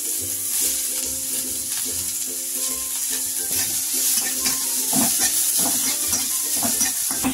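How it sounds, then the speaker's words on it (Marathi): Chopped onion sizzles steadily in hot oil for an egg masala, a constant bright frying hiss broken by irregular clinks and scrapes of a spoon stirring in the pan, close and without talk. "आई इथे ना कांदा टाकून घेते, तेल तापलेलं आहे बघा, कांदा भाजून घ्यायचा आहे आपल्याला"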